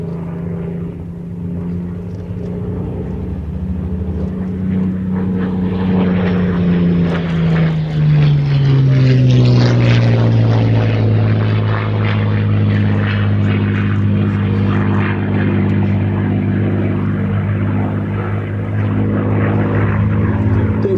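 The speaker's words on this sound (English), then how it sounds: "the Grace Spitfire, flown by Ben Cox, showing off those D-Day invasion stripes" A Supermarine Spitfire warplane, the Grace Spitfire painted in D-Day invasion stripes, drones overhead with a loud, steady propeller-engine roar that shifts downward in pitch as it passes, with no voices.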